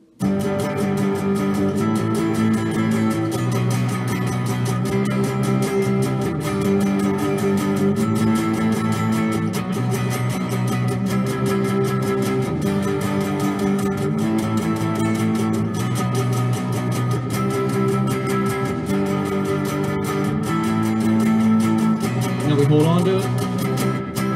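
A driving electric guitar riff in straight eighth notes repeats steadily over a full band mix, holding an even, continuous rhythm for the whole stretch.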